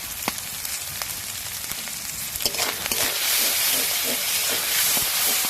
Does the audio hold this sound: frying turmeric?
yes